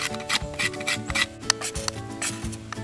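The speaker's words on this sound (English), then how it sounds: "And get some hardwood scraping for tinder." A blade scrapes hardwood into fine tinder shavings at a bushcraft camp, a close series of quick rasping strokes in an uneven rhythm, with no talking.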